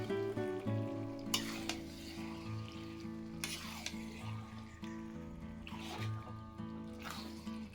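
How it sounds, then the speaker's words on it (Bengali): Mutton pieces sizzle steadily in a pan for a Bengali mutton curry, frying slowly with intermittent scraping stirs and soft clinks, close and moderate in level, with a faint tonal hum underneath. "এবার সময় নিয়ে মাংসটা ধীরে ধীরে কষিয়ে নেব।"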